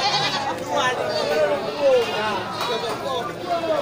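Goats and sheep bleat repeatedly at a busy Indonesian livestock market, wavering calls overlapping one another up close amid a crowd's chatter and someone talking over them.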